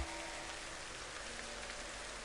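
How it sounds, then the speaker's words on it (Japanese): Heavy rain and wind at night pour down in a steady, dense hiss with no pauses, fairly faint and even throughout, with no voices. "雨風が激しくなって明かりもないまま眠られずにいた"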